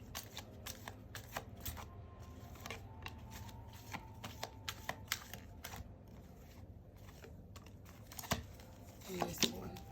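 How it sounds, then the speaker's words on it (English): A tarot keeper deck is shuffled with soft, rapid card clicks and slaps that run almost continuously. The sound is quiet and close, with a somewhat busier burst near the end. "So next we're going to shuffle your"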